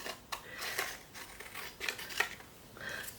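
Scissors snip through paper for a journal, several short crisp cuts at an uneven pace, close and fairly quiet with no voice.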